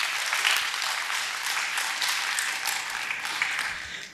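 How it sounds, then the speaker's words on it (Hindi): Enthusiastic audience applause for IMC at a motivational seminar, many hands clapping in a thick, continuous roar that swells and fades slightly over a few seconds before tapering off. "आईएमसी के लिए एक बार जबरदस्त ताली बजना चाहिए"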